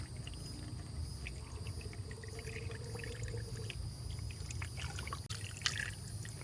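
Liquid trickles and pours softly and faintly while refilling a 2015 Town and Country during a thermostat replacement, a thin continuous stream under low background hiss with a brief clunk near the end.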